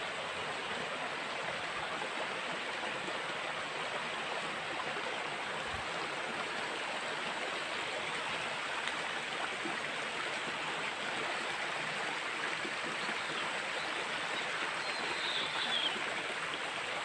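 A wild stream in the Philippines rushes toward Fairy Falls, giving a steady, dense broadband wash of flowing water that holds even and unbroken throughout, with no voices.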